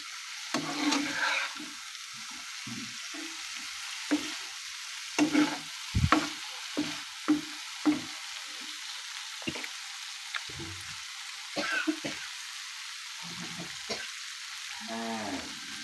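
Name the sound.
stir-frying green banana kofta masala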